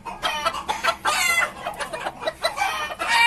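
Barred mini Cochin bantam chickens cluck close by in a quick, busy run of short calls that overlap one another, with a few higher, drawn-out notes among them.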